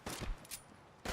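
Gunfire in the video game Fallout 4, heard as a few faint, quick bursts of shots spread over about a second, fairly distant and low in level.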